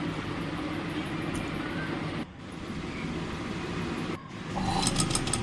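A sewing machine runs steadily while stitching the neckline of a blouse, a continuous close mechanical whirr with two brief pauses and a slightly louder burst at the end.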